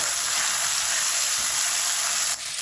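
Ginger garlic paste frying in a pan, a steady, dense sizzle holding loud and even throughout, dropping slightly near the end, with no voices.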